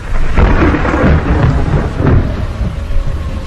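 Heavy thunderstorm with pounding rain and deep rumbling thunder, the rolling booms swelling twice over a constant loud downpour with no voices.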